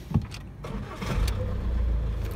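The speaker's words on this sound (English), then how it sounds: "Start the engine." A diesel car engine with about 320,000 miles on it, a blocked particulate filter and running hot, cranks briefly and catches, then settles into a steady low rumbling idle close by.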